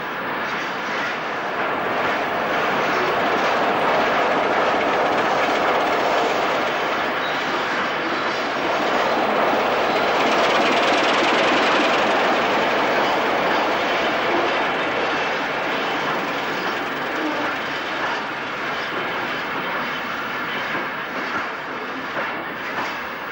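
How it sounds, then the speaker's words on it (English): Two Beyer Peacock-built Class 2 diesel locomotives haul a stone train past, a loud sustained engine roar and rumble that swells and fades slightly over its length, with no speech. "2 Bear Peacock-built Class 2s head a stone train north."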